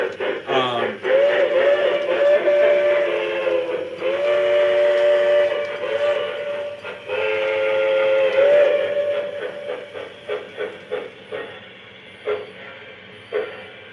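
Model K4 steam locomotive on a home layout giving long steam-whistle blasts, then a run of rhythmic chuffs that grows more spaced out toward the end, close and fairly loud with no talking.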